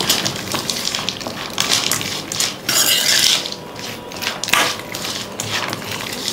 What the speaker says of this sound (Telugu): ఇప్పుడు దీన్ని మిక్స్ చేద్దాం.